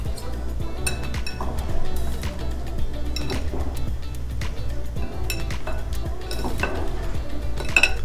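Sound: tossing summer salad in a bowl, stirring with a knife

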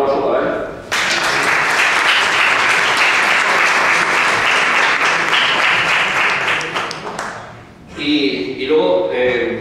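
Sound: audience applause at a poetry forum

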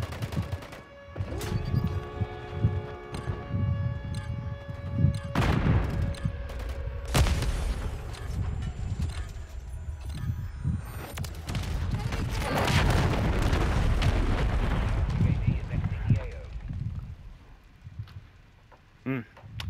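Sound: bombing airstrike explosions in video game Modern Warfare 3

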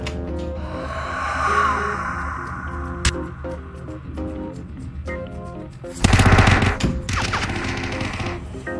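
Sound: gunshots in a VR shooter game

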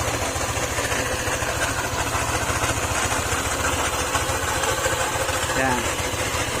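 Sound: scooter engine idling with metal grinding noise

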